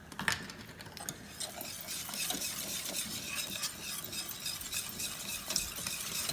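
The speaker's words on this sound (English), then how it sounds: "Give it a stir to loosen it." A spoon works through thick white sauce loosened with extra milk in a pot for mac and cheese, a close, continuous scraping and swishing with small clicks, steady throughout and without talk.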